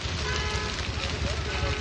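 A wheat field fire: a dense, roaring crackle of burning fills the whole moment, loud and continuous, with low rumbling underneath.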